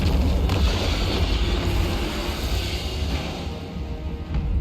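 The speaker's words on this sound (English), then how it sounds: "one more dragon breath through these guys." A roaring, rumbling blast of fire from Miao Ying, the Storm Dragon, in Total War: Warhammer 3 sustains for several seconds, dense and booming with a brief swell near the end.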